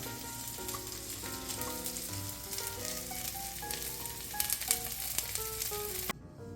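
Onions and coriander stems fry in a pan with a dense, continuous sizzle under background music, steady and close, until the sizzle cuts off abruptly near the end, with no talk.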